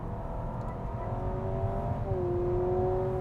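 A 2025 Honda Civic Hybrid hatchback accelerates at full throttle, its engine and electric motor producing a steady rising whine heard from inside the cabin, with a brief tonal shift midway as the pitch drops and climbs again.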